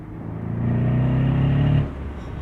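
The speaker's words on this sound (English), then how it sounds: "I wasn't ready for the performance that this engine delivers once AMG straps 2 turbochargers on it" Twin-turbo engine of a 2015 Mercedes-Benz SL63 AMG (R231) accelerating hard, a loud close rising growl that builds over about a second, holds strong, then drops off sharply into a lower rumble.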